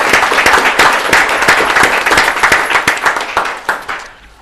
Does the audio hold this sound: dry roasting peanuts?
no